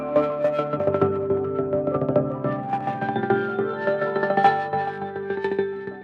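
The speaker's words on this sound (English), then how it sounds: "I'll get started with the gated synth track." A gated synth part playing solo through a Rhythmizer effect, chopped into rapid rhythmic pulses of sustained chords with a steady stuttering pattern, clear and alone with no voices.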